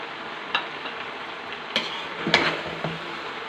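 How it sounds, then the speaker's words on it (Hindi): Macaroni being mixed with ketchup and vegetables in a pan, a soft steady background texture broken by a few sharp scrapes and knocks of the spoon against the pan, no talking. "अच्छे से इसको मिक्स कर लें ताकि सारी वेजिटेबल इसके अंदर मिक्स हो जाएं"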